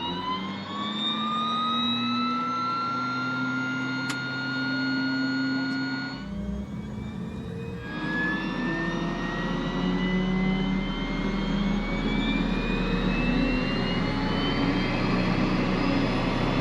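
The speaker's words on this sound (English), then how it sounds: "the engine was fired up so we could taxi our way out to open water for takeoff" A loud, steady seaplane propeller engine drones continuously with a rising whine while taxiing on Loch Lomond, briefly dipping midway before roaring on strongly.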